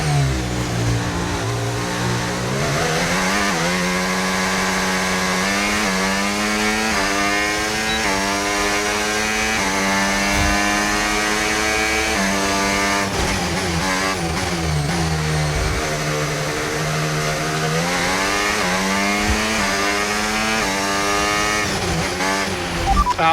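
A Formula 1 car in the F1 25 racing game runs a lap, its high-pitched engine revving up through the gears with repeated shifts and brief lifts, loud and continuous throughout.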